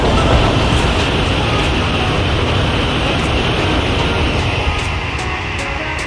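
Loud, steady rumble of a Japanese maglev train in motion heard from inside, a constant roar with faint rhythmic clatter and no talking.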